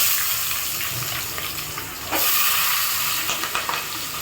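Onions and dried red chillies frying in hot oil in a pan, a steady close sizzling hiss throughout that swells briefly as more is added partway.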